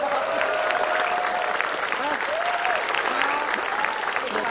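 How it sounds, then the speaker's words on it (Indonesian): A studio audience at an Indonesian comedy game show claps and cheers loudly and steadily throughout, with voices calling out and faint talk mixed into the crowd noise. "Tepuk tangan dong."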